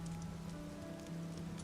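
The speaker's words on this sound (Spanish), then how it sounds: "La lluvia continuó golpeando suavemente el piso." Rain falls gently on a floor, a soft continuous patter that stays faint and even throughout, with a quiet hum underneath.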